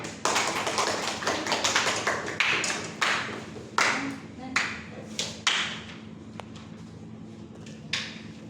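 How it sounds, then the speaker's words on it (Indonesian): Students in a classroom clap in scattered, uneven bursts, individual claps distinct and near, tapering off toward the end, with a low steady hum underneath. "Terima kasih Nisa. Tepuk tangan ya."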